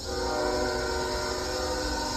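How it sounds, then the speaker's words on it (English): A train rolls past close by, a steady broadband rumble with a sustained horn tone layered on top throughout, with no talking. "And we have a choo-choo train coming."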